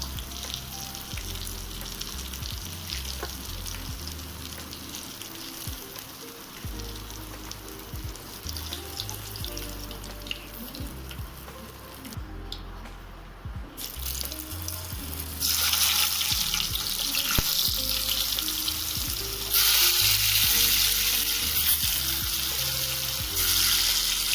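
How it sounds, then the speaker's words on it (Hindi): Gram flour gatte frying in hot oil, a continuous crackling sizzle that swells louder and brighter partway through as more pieces bubble, with no voices. "तो चलिए इसी तरह से सारा बेसन फ्राई कर लेंगे।"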